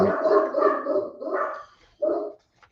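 A dog barks several times in a row nearby, loud, rough and gargly, then pauses before a final short bark, with no talking.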